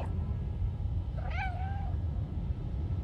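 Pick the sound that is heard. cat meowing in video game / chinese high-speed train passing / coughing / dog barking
cat meowing in video game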